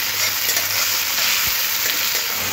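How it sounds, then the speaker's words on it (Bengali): Chopped onions frying in a pan for a chicken curry, a steady bright sizzle and hiss of oil throughout, close up and alone with no talk. "মধ্যে দিয়ে একটু কালার গোল্ডেন কালার আসা অবধি পেঁয়াজটাকে ভাজতে হবে।"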